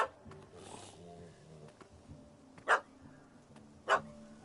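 In The Witcher video game, a puppy barks at a cat that has fled up a tree, giving two sharp, separated barks over quiet ambient game sound.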